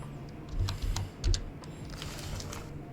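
A computer keyboard clicks as a folder is named, a short run of light, quick keystrokes close by, fairly quiet with a faint hum underneath.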